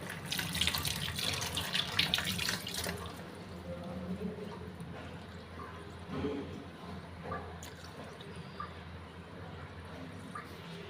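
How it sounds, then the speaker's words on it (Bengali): Fish are washed with salt under a running kitchen tap, with water splashing loudly at first and then flowing and trickling more softly, with small handling clinks and some faint background voice. "তো আমি মাছগুলো এখন লবণ দিয়ে ভালো করে পরিষ্কার করে ধুয়ে নেব"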